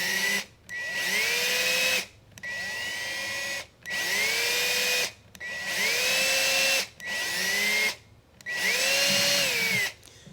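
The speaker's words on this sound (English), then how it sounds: "I'm going to hold the piece down with one hand and just drill." A small power drill whines in five bursts, revving up, grinding steadily into metal, then stopping briefly between each run.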